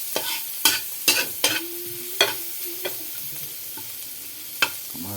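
Garlic in hot oil in a pan for sinangag, a soft continuous sizzle punctuated by several sharp scraping stir strokes, close and fairly quiet.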